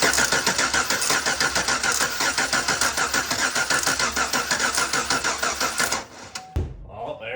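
A 2008 Chevrolet Silverado with a stuck lifter cranks over in a loud, rapid rhythmic churn for about six seconds, then the engine catches and settles into a lower running rumble.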